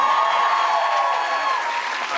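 Audience applause at a frosh-week improv comedy show, a dense continuous wash of clapping from a crowd with faint cheering, steady throughout.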